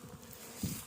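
An open honeybee hive seethes with a dense, continuous buzz of a busy colony. The drone is close and steady, with a brief swell near the end.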